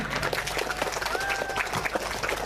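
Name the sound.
audience applause for graduating students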